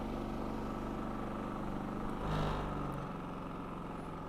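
A WEN 56380i 3800-watt inverter generator idles in eco mode, a steady low engine hum with a brief swell in the middle before settling back to a quiet drone.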